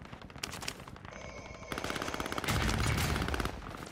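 Burst-fire gunfire in Call of Duty: Modern Warfare comes in rapid repeated bursts, growing louder and denser midway through, with no talking over it.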